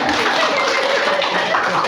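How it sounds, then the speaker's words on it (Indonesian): Steady crowd applause from students and teachers at a school teacher-competency award ceremony, dense continuous clapping filling the whole moment at close range. "Tepuk tangan."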